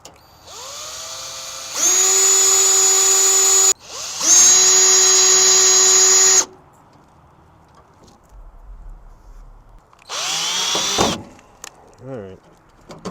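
A power drill drives self-tapping screws into a rusty car fender in three loud, close bursts, its whining motor rising quickly and holding steady before stopping, with quiet gaps and brief speech between.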